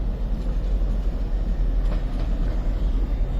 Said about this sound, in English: That 66 coming from Trafford Park Euro Terminal and was going to Wembley Park